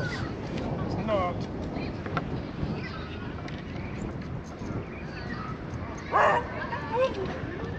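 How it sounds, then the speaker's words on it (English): A beagle barks at a couple of other dogs some distance away, giving a few sharp yips and barks, one louder burst near the end, over wind and water noise while people talk nearby. "There's a beagle over there telling off a couple of dogs."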